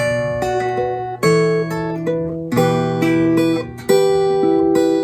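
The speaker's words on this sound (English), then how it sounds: "when you pluck it, it should sound like this." A minor chord plucked on guitar, individual strings picked in a repeating arpeggio pattern with ringing, overlapping notes, close and clear with no talking.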